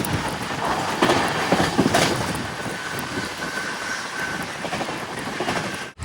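The Coromandel Express sleeper train rolls along the rails with a loud, continuous close roar and rhythmic clickety-clack of wheels over rail joints, a faint squeal rising through the noise.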